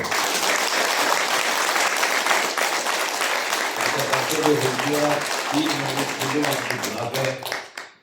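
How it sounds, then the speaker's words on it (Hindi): Audience at a large religious gathering in Pune, India, clapping loudly and continuously; partway through a voice sings or speaks over the applause before it fades out at the end. "उसके स्वागत में ताली मारो"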